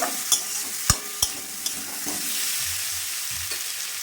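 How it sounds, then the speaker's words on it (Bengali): New potatoes are turned in a hot pan for aloo dum with peas. Sharp spatula clanks and scrapes land over a bright, steady sizzle of frying. "নেড়ে দিয়ে আলুগুলো দিয়ে দিলাম। আলুগুলো নাড়াচাড়া করে"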